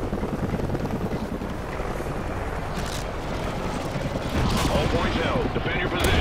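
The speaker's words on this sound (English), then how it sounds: "Oh, helicopter." A helicopter roars through a Call of Duty Ghosts multiplayer match, its rotor thrum loud and continuous, mixed with gunfire crackle and game effects, rising slightly toward the end.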